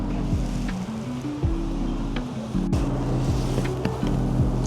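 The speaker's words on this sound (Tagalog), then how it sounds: "Grabe yung hangin dito." Strong wind roars and buffets continuously at close range in Sapa, Vietnam, over a low droning motor hum.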